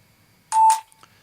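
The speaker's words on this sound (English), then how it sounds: "And now there's a beep coming." A single computer beep cue from a lab button-press experiment, about a quarter second long, sounding clear and alone against near silence, followed by a faint click.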